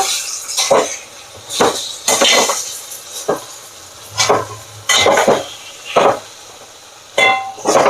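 Spoon scraping and stirring curry with added masala in a pan on the stove, a series of loud, irregular scrapes and clinks with a faint sizzle between strokes, no voices.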